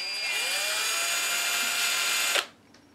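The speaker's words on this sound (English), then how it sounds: "And get my little drill out. Take our little screws" A small power drill driving screws into RC car bumpers whirs steadily at high pitch for a couple of seconds, then cuts off abruptly, leaving quiet room tone.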